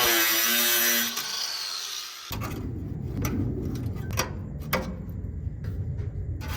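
Sheet metal being cut for a hood stack shroud: a loud, whining power-tool cut for about two seconds, then steady scraping and rasping noise with sharp clanks near the tool.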